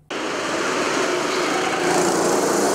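Go-karts race on a track, small high-revving engines buzzing in a continuous loud drone that starts abruptly and holds steady, with no voices.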